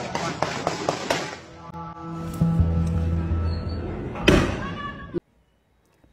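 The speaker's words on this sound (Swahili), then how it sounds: "na milio ya risasi zaidi inafuata." Gunshots in news footage of violence involving police in Tanzania: a rapid burst of several sharp cracks opens, followed later by another loud report, with voices shouting and talking in between.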